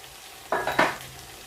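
A spoon scrapes and stirs red kidney beans cooking in a pot, three quick close scraping strokes with a faint sizzle, alone without talk.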